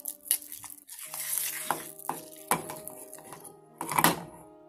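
A spoon stirs a dry nut energy bar mixture, with a splash of milk added, in a bowl. Several close scraping and clinking strokes come in uneven bursts, with a steady tonal hum underneath.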